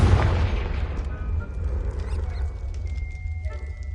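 A Confringo fire spell bursts in the video game Hogwarts Legacy, giving a loud, deep boom up front that rolls into a rumbling blast and a fading crackle and hiss across the next few seconds.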